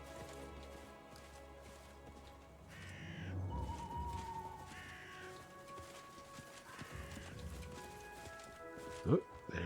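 In the Pathfinder Kingmaker video game, a crow caws a few times amid game ambience with horse sounds, and someone talks over it.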